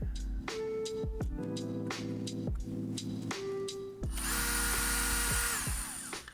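A driver tightens a screw on a Talon Claw 4 (T4) Skegg stock, giving a steady close whine with pulsing pitch steps that turns into a louder, harsher buzzing toward the end, with no voices.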